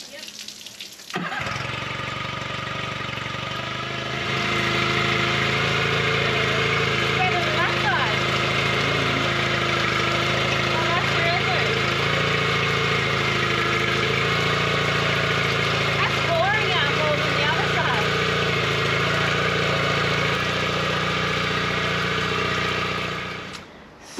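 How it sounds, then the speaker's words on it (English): Repaired sailboat engines idle steadily after being rebuilt and cleaned of barnacles, a continuous mid-pitched mechanical drone and hiss that runs alone for over twenty seconds. "Super stoked that we got the engines working and back together yesterday and no issues"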